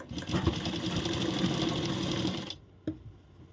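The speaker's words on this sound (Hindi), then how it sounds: "अभी हम नीचे से भी इसमें एक सिलाई लगाएंगे।" A sewing machine stitches a princess-cut blouse in one fast continuous run of rapid mechanical clatter, loud and close, stopping abruptly, followed by a single faint click.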